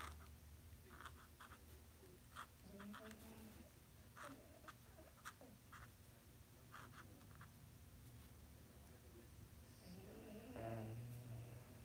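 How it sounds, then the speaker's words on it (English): Soft, faint snoring breaths from dogs repeat in a loose rhythm in a quiet room, with small snuffles and rustles. "My dogs are snoring so loud."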